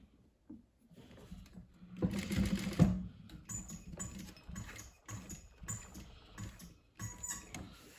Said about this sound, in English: top stitch this little piece